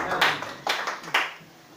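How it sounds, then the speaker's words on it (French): A church congregation applauds in praise during a worship service, giving a few short bursts of clapping that fade out at a moderate distance. "On acclame le Seigneur Jésus"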